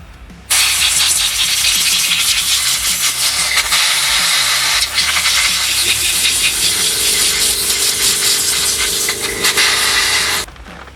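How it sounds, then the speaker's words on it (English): Compressed air blasts through a 4L60E transmission pump being overhauled, a loud, steady, close hiss that runs unbroken for about ten seconds before cutting off. "Get you some compressed air"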